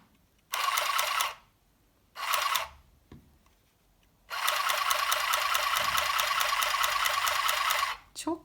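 A Singer handheld sewing machine stitches fabric in rapid, buzzing mechanical bursts, one short, another brief, then a long sustained run, separated by quiet pauses, close and clear.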